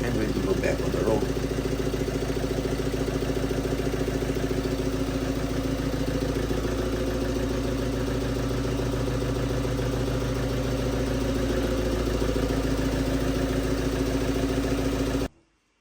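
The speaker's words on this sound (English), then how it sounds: "is sounding and working perfectly fine on this type of engine" A Ford Transit Custom van's 2.2 TDCi diesel engine idles steadily after a timing chain replacement, a constant close low rumble with a faint knock at the start, then a sudden cutoff.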